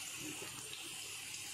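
Water pours steadily from a pot of boiled rice being drained while cooking chicken dum biryani at home, a continuous close rushing splash with no pauses.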